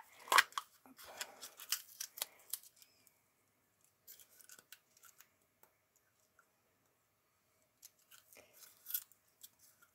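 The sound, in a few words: scissors cutting open a paper roll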